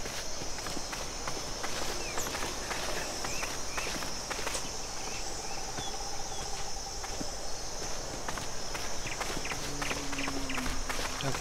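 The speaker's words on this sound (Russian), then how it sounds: "Слышите, даже звук шагов" A Gallimimus walks near human buildings in the dinosaur survival game The Isle. Its steady footsteps patter lightly over a constant outdoor ambience with chirping insects, fairly quiet and without talk.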